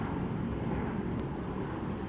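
A fixed-wing airliner climbing out on takeoff from Salt Lake City, a steady loud broadband jet roar that holds evenly throughout, with no speech.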